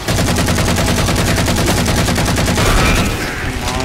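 Sustained, rapid automatic fire from an assault rifle in Halo 4, loud and close, a dense steady rattle of shots that stops near the end and leaves a brief fading tail, with no voices.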